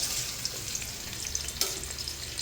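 Onion and garlic frying in hot coconut oil for a coastal-style fish sambar, a steady soft sizzle and crackle with a couple of faint stirring clicks, quiet and continuous, no voices.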